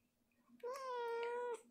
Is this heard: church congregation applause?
no